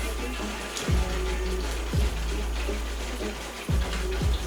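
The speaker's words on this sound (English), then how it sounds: "I'm going to immerse her head in the water" A doll's head is dunked into water, producing repeated splashes and sloshing at roughly one-second intervals over a steady background hum.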